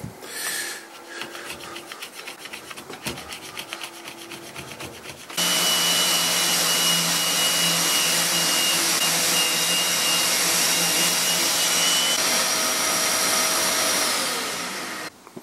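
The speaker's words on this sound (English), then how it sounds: "Finish these off with a sander." An electric sander working over a wooden child's rocking chair during restoration: after a few light scraping and rubbing strokes, the motor starts abruptly and whines loudly and steadily close by, with no talk.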